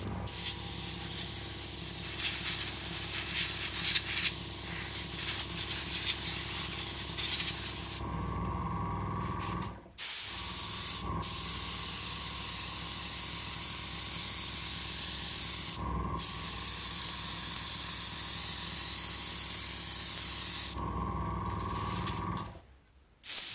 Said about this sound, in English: it's a good idea to just blow over it with the airbrush before you start painting.